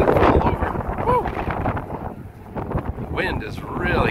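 Strong wind gusting on a day out driving around Albuquerque, a loud, rough buffeting roar on the microphone that swells and eases, with brief voice-like sounds mixed in.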